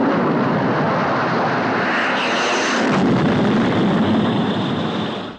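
Jet fighter aircraft roaring past in an old giant spider film, a loud, sustained broadband engine rush that swells slightly and then cuts off.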